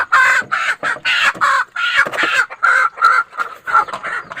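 Native chickens call in a dense run of loud, closely spaced squawks and crowing bursts, nearly continuous over several seconds, with a rooster among the flock close by.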